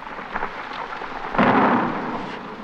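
A thunderstorm over a forest, with steady rain hiss and a sudden loud crack of thunder rolling and fading away for about a second.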